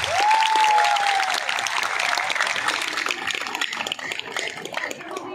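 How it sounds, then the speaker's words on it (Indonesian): A large crowd of high school students claps loudly and steadily in a school hall during a traffic safety session by Central Java regional police, Jasa Raharja and Samsat, the dense applause holding strong before thinning slightly toward the end. "Tepuk tangan buat Pak Ilham."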